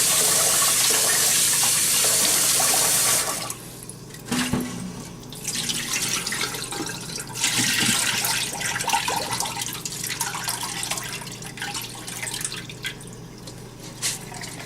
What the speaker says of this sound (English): But I usually do 3 washes of the rice, just to be sure.